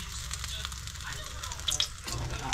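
Food sizzles quietly in a pan as the frying winds down, a soft steady crackle with a few brief clinks and stirring sounds.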